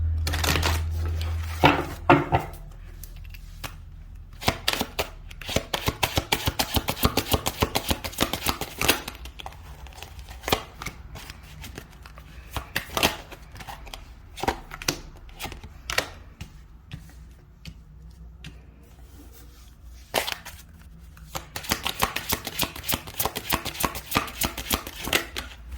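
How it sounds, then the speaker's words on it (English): A deck of cards is shuffled in repeated bursts of rapid riffling and slapping, close and crisp, with short quiet pauses between the flurries and no talking. "One more shuffle for Aries singles."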